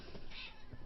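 A cat meows once in a short, clear call that rises and fades, heard close and alone over a faint background hum.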